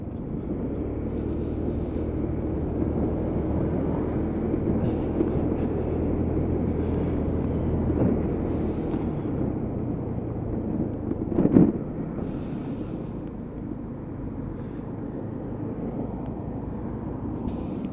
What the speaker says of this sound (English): And then just let her idle in again.